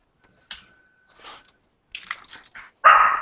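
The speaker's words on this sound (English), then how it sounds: "Fucking dog." A dog barks several times in short separate bursts, with one louder, closer bark at the end against otherwise quiet surroundings.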